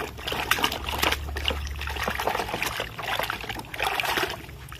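Water splashes and trickles steadily over muddy toy trucks, including a tanker lorry, as they are washed, a continuous close spraying and sloshing with a few brief bursts.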